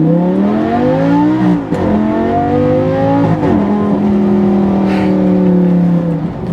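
A Lamborghini Gallardo supercar engine revs hard while driving, loud and close, with rising and falling pitch sweeps as it climbs through gears and shifts, continuous throughout.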